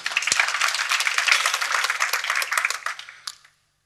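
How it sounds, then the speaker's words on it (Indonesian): Audience in a church sermon setting breaks into applause, a dense burst of many hands clapping that swells and holds for about three seconds before tapering off abruptly. "Tepuk tangan dulu saudara"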